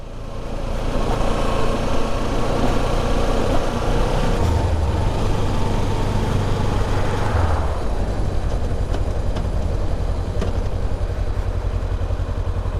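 A 2016 Kawasaki Ninja 300 motorcycle engine runs steadily and loudly throughout, a continuous close droning rumble with no speech over it.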